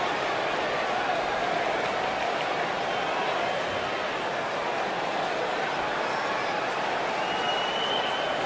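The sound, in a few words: wrestling arena crowd cheering in video game WWE 2K19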